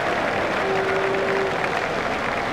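A cricket crowd at a South Africa versus West Indies one-day international applauds Shivnarine Chanderpaul after his 129, with dense steady clapping filling the stadium from start to finish.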